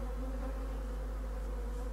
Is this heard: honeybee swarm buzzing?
yes